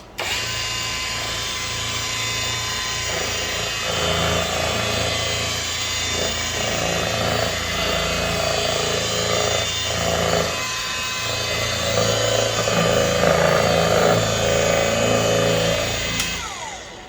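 A pad washer spins and scrubs a floor pad with a constant mechanical whir and churning wash, its pitch wavering slightly as the unit is moved about, and it cuts off abruptly at the end.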